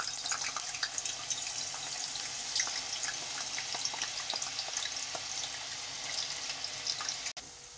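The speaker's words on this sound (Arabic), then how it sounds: "هنا معايا البطاطس اهي لسه بتتحمر" Potatoes frying in a pan of hot oil give a steady, dense sizzle with fine crackling pops throughout, fairly close and with no talking, ending in a brief knock.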